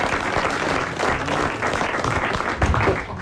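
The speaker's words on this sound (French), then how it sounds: "on vous applaudit" Studio audience applauding on a French radio comedy panel show, a dense, steady wash of clapping that holds for several seconds at even strength.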